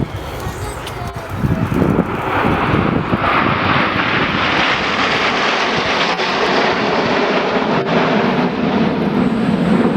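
Red Arrows jets roar past in Swan formation at Leuchars Airshow 2011, a loud broad engine rush swelling and holding through the pass, with wind buffeting and faint commentary underneath.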